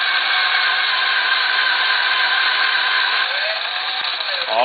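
A V tool's edge is ground against a spinning sharpening wheel to remove excess metal, giving a steady, loud, continuous whine that runs the whole time and alters slightly near the end.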